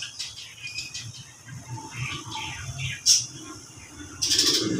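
Birds call outside a nipa hut: scattered chirps and tweets of moderate loudness over low outdoor background noise, with a brighter burst of calls and possible wing flutter toward the end.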